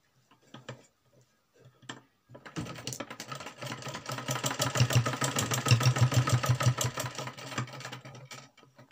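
A sewing machine runs steadily while stitching two joined pieces of suit fabric, a fast rhythmic mechanical clatter that starts after a few faint knocks and continues close and moderately loud without speech.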